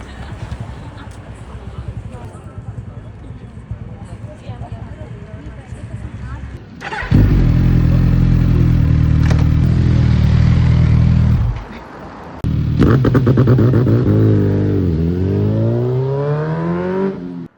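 A Suzuki Hayabusa superbike engine fires up loudly, holds a deep, steady idle, cuts briefly, then restarts and revs in rising and falling sweeps close by.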